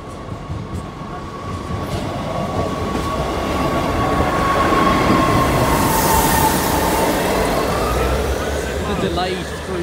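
A Class 158 diesel multiple unit train rumbles past close by at a level crossing in Lincoln, a steady roar of wheels on track with a faint high squeal, building and holding loud before easing slightly.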